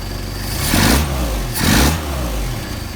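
A Mercedes 190SL engine running on Solex carburetors, settling at idle with two brief swells of revving, a steady mid-pitched rumble close by with no talking.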